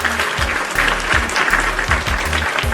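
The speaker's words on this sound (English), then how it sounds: "Again, one last round of applause, folks." Studio audience and panel giving a final round of applause on a wrestling podcast, dense continuous clapping at steady volume with a faint low pulsing underneath.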